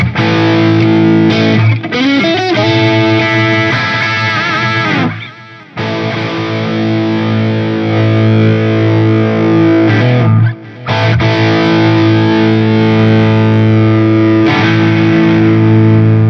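Electric guitar driven through a distortion effect, loud and close, with dense sustained chords and riffs played for several seconds and a couple of short breaks between phrases.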